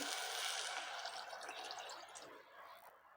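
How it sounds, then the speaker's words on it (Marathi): A soft, steady stream of water pours and splashes into a cooking pan of pithla, gradually fading over a few seconds. "थोडंसं पाणी घालू"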